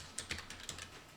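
Faint, quick clicks of typing on a computer keyboard come at an uneven rhythm, about half a dozen keystrokes with no talking.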